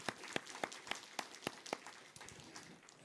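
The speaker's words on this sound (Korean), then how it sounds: "환영하는 의미로 우리 박수로 환영하도록 하겠습니다" A church congregation at a Sunday service gives sparse, scattered applause in welcome, a handful of distinct claps spaced out and fairly faint, thinning toward the end.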